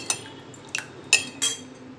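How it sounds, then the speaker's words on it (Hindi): A spoon stirs curd and sugar for panchamrit in a bowl, a few bright clinks of metal against the vessel spaced over a couple of seconds, close and quiet between strokes. "दही डाल के आप अच्छे से मिक्स कर लेंगे"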